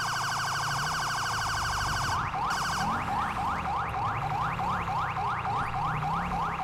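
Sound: police siren in a video game

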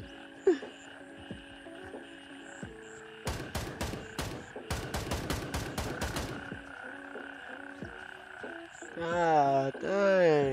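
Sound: frogs croaking in the video game Gray Zone Warfare

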